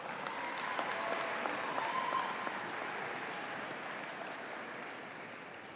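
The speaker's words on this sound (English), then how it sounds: "Let's give our wind ensemble and choir another round of applause." Steady applause fills a high school graduation hall for the wind ensemble and choir, a soft, even wash of many hands that fades slightly toward the end.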